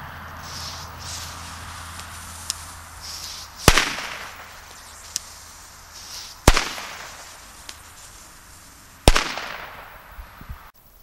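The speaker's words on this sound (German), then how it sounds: "Comet Pyro Cracker 2013." Comet Pyro Cracker 2013 firecrackers go off in three sharp, loud blasts spaced about three seconds apart, each followed by a rumbling echo that fades over a second or two.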